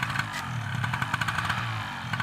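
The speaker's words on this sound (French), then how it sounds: "muni d'un petit moteur à hélice et d'une voile" A small propeller engine on a paramotor with a sail, flying over the Marais Poitevin marshes, gives a steady, buzzing drone with a rattly edge that holds at an even level throughout.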